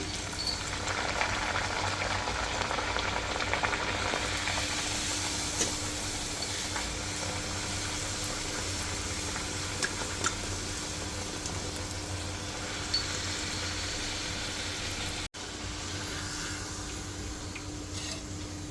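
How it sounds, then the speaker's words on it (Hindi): Spinach puris frying in a pan of hot oil, giving a steady, dense bubbling sizzle throughout, close and even, with one brief dropout near the end. "यहाँ पे मैंने तेल गरम करने रख दिया था, अब इसमें डालेंगे हमारी पूड़ी"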